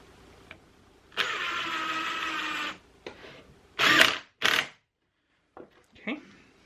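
Power driver sinking 2-inch screws into wood during a French cleat holder build: a steady whirring run of about a second and a half, followed by short, sharp bursts and scattered clicks.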